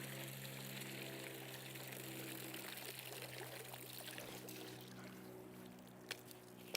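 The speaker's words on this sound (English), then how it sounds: "Let the water drain out." Water drains and trickles steadily out of pond debris being lifted during pond cleaning, a soft continuous pour at close range with a steady low hum underneath and a couple of faint knocks near the end.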